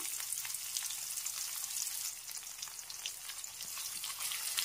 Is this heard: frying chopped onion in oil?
yes